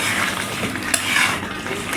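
Potatoes and chicken skin are turned in a pan, a soft steady sizzle of frying under scraping and clinking of a utensil against the metal, with no talk.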